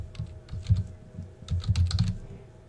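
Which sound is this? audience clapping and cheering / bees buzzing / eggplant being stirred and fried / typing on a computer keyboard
typing on a computer keyboard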